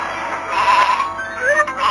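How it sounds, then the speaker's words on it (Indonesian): A sheep bleats loudly in a wavering, drawn-out call over a steady background hum, set among a flock at Mount Horeb in a retelling of Moses tending his sheep. "Musa sedang menjaga domba-dombanya di Gunung Horeb."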